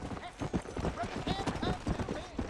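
Horse hooves clip-clop in a steady trotting rhythm inside the video game Red Dead Redemption, clear and fairly close, with someone talking over them.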